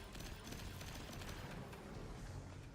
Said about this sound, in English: I like the explosions this thing is causing because of that perk.